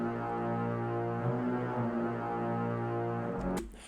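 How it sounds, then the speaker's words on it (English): Low strings from the Cinematic Strings 2 library, sustaining a dark, droning chord with slight swells, quiet and steady before cutting off abruptly near the end. "We have low strings, they sound like this."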